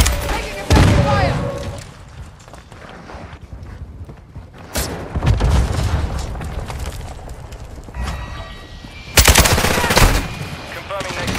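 Bursts of automatic rifle fire from a Kastov 762 in Modern Warfare 2 Hardpoint on Crown Raceway, loud sharp volleys separated by pauses, with game voice callouts in between.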